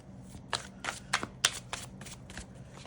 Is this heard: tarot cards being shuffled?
yes